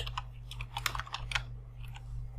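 Rapid keyboard typing entering column headings in an Excel salary sheet: a quick run of light, close clicks and taps, busiest in the middle, over a steady low electrical hum with no voices.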